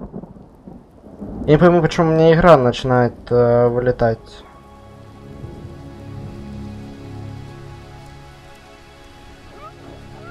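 Rain and rolling thunder from a storm in the video game Ori and the Will of the Wisps. It runs as a steady wash under faint music, after someone talks loudly over it at the start.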